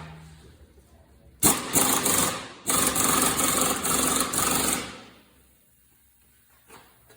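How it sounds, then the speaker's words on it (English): Impact wrench pressing a control arm bushing on a 1997 Jeep TJ, two loud close bursts of rapid rattling hammering with a short gap between, then quiet. "Now I want to blast it with the impact."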